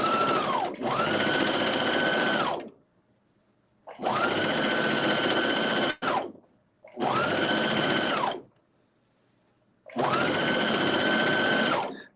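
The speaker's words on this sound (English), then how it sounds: "I'm going to gather this part right here with our serger." A serger runs in four steady bursts while gathering fabric for a skirt, each a whirring mechanical hum a couple of seconds long with short pauses between, close and alone.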